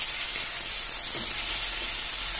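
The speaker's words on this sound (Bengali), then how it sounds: "খুলে আবার একটু নাড়াচাড়া করবো টমেটোগুলোকে" Tomatoes softened with salt sizzle steadily in a pan while being stirred for a Bengali dhokar dalna, a close, even hiss with no talking.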